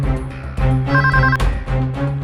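Telephone ringing indoors in a TV crime drama, a loud, close electronic ring repeating in quick bursts for about two seconds with no talk.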